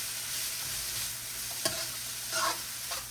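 Pancit is stirred in a frying pan over a constant sizzle, with a utensil scraping the pan and one sharp knock partway through, close and without talk.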